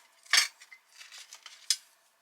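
Two razor blades from a BCB Vickers survival kit handled close by, giving a couple of sharp thin metallic clinks with softer light scraping and rattling between them, quiet and without talk.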